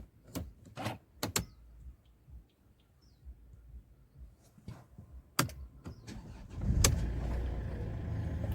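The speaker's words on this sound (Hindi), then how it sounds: "गाड़ी हो चुकी है स्टार्ट," A Mercedes-Benz E250 CDI diesel starts up: scattered clicks and door or cabin thumps come first, then the engine catches with a swelling low rumble that settles into a steady close idle.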